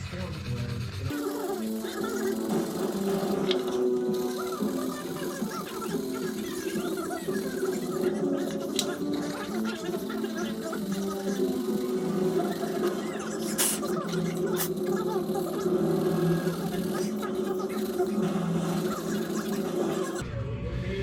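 A stamped steel valve cover, being worked toward a patina finish, is sanded by hand up close. The scratchy, abrasive rasp runs steadily and almost without pause for about twenty seconds.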